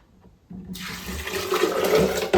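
After a quiet moment, water gushes loudly into a blender container onto a cup of almonds, a strong steady rush that grows fuller toward the end.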